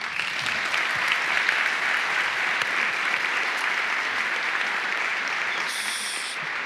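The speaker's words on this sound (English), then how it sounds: "I want to ask you to join me in a round of applause for our amazing wait staff who've been great today." Sustained round of applause from a large audience at a bar association annual meeting luncheon, dense even clapping with a roomy feel, holding steady throughout.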